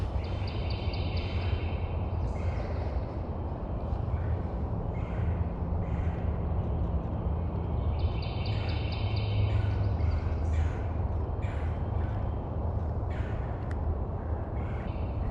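Repeated rolling calls from a red-bellied woodpecker at a wildlife refuge ring out in a few bursts over steady outdoor background noise, moderately distant.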